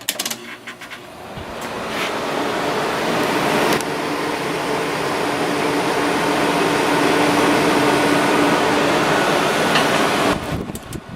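An air conditioner running on turbo cool, a loud, steady fan-and-compressor roar that starts with a few clicks, holds a constant hum for several seconds, then winds down near the end.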